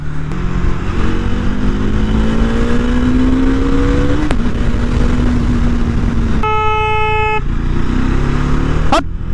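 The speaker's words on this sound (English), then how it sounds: "I just love the sound of this bike when it goes high RPMs" Motorcycle engine revving to high RPM, a loud close rising whine that climbs in pitch, drops back and repeats, with a brief horn-like tone near the end.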